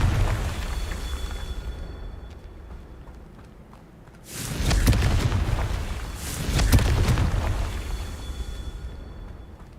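Confringo spell explosions in Hogwarts Legacy, heard as two loud fiery blasts a couple of seconds apart that rumble and crackle, rising out of a quieter ambient background and then tapering off.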